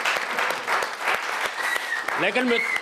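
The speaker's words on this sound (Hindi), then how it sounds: "कविता समाप्त हो गई है, तालियां बजाइए।" Audience applause after a satirical poem at a Hindi kavi sammelan, clapping mixed with cheering voices and a speaking voice over it, continuous through the short stretch.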